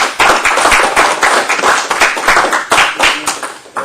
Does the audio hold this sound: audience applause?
yes